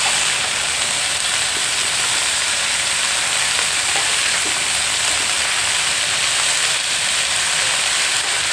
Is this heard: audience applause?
no